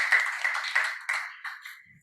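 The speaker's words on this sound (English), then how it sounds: "so please applaud him as well" Conference audience applause rings out in a hall, a bright burst of clapping with a few swelling surges that gradually thins and fades over about two seconds.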